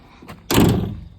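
Cab door of a John Deere 75G excavator opening, a brief latch click followed by a loud, close thunk and rattle of the door swinging that fades within half a second.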